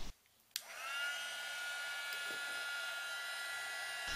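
A heat gun blasts hot air onto metal before soldering a rhinestone chain bow tie necklace, switching on with a click after a quiet moment and then holding a steady, close whooshing roar with a high fan whine.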